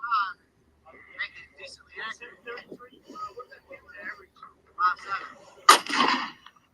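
A single sharp .50 BMG rifle shot cracks out near the end, loud and brief, after stretches of quiet, scattered talking.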